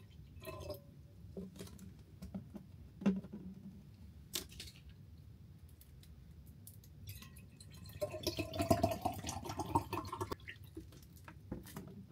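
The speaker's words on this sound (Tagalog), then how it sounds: "Lagyan ko lang tong tubig na tumbler na dadalhin ko" Water is poured into a tumbler in a quiet morning home in Yamba: a few soft drips and small knocks, then a gurgling pour of several seconds near the end, close and gentle, with no talk.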